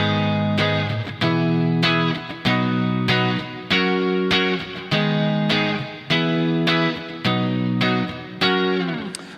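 Distorted electric guitar strumming a sequence of chords, each struck firmly and left ringing in an even, steady rhythm, loud and up close.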